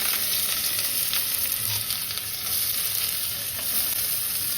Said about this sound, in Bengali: তেল গরম হয়ে গেছে, এবার আমি পেঁয়াজগুলো ছেড়ে দেবো।